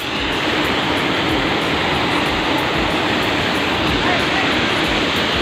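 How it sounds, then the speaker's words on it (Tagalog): Kangangawan Falls roars with rushing, crashing water, a dense and steady torrent that fills the scene at close range without letup. "Ito po yung Kangangawan Falls."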